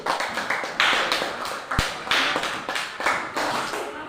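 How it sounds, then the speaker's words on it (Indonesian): A classroom of students clapping hands together, with bursts of uneven clapping starting and fading several times, fairly close and loud. "Oke, semua kita beri tepuk tangan dulu."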